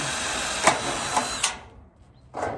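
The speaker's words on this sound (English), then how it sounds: "now I can actually put a rivet in the other end" A rivet tool sets a rivet into a metal wall splicer, giving a few sharp close snaps over a steady machine hum that cuts out, followed by a final burst of noise.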